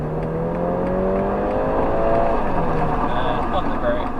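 A police car engine pulls hard as it accelerates on the road, its rising drone close and loud beneath an instructor talking throughout.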